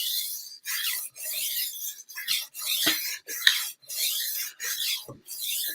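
A kitchen knife scrapes across an 800 grit whetstone in repeated rasping strokes, about ten in a steady back-and-forth rhythm with short pauses between them, close and clear with no talking.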